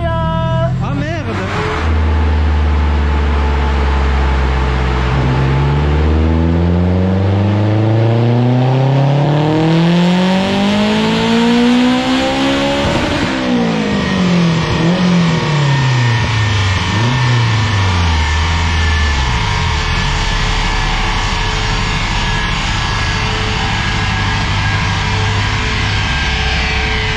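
A turbocharged Honda Civic EP3 Type R engine revs hard, climbing steadily for several seconds to a high peak, then falling away and settling into a rough idle, loud and close, with voices talking over it.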